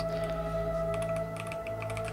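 Fingers type steadily on a computer keyboard, rapid clicks in bursts over a constant electrical hum, close and fairly loud.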